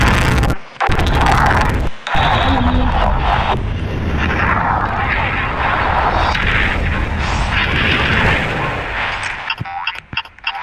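Cannon fire on a pirate map in a Roblox video game, booming in dense, repeated volleys that run together almost continuously, with a few brief gaps near the end.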